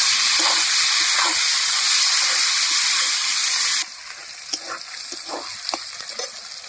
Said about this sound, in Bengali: এবার দিয়ে দেবো মাছের তেল